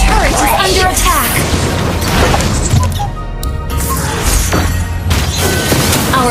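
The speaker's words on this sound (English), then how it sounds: "Our turret has been destroyed." Loud booms and crashing impacts pound a defensive turret in the Mobile Legends battle arena until it is destroyed, heavy blasts piling onto each other in a dense and chaotic game soundscape with voices mixed in.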